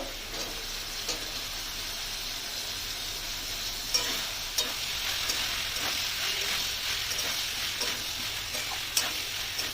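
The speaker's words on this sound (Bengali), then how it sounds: "এবারে দিয়ে দেবো কেটে রাখা ঝিঙেগুলো, সঙ্গে ডাঁটাগুলো" Sliced ridge gourd and its stalks tossed into hot oil in a pan, sizzling steadily and close with a continuous hiss, broken by occasional stirring scrapes.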